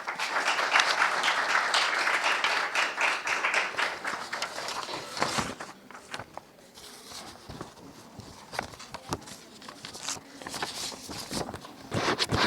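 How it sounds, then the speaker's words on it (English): Audience applause at a course closing ceremony, sustained dense clapping from a crowd that thins and becomes scattered toward the end, with no speech over it. "We must have lots of clapping for those they have come from far flung areas."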